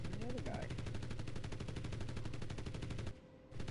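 Rapid, steady automatic fire from an FG-42 rifle in a video game, a loud continuous rattle of evenly spaced shots for about three seconds, a brief pause, then firing resumes.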